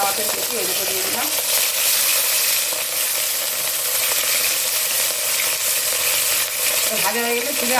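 Two pieces of katla fish belly fry in hot oil, giving a loud, steady crackling sizzle throughout, with a voice faintly heard underneath at moments.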